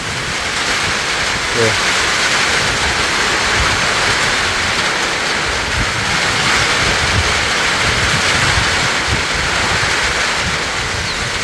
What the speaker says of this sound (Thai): มาแล้ว พี่น้อง ฝนมาแล้ว